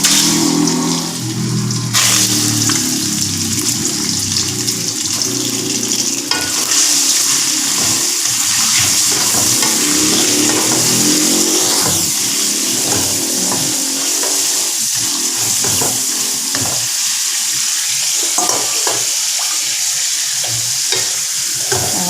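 Prawns frying in hot oil while being stirred, a loud continuous sizzle with scraping and bubbling throughout, close up and without talk.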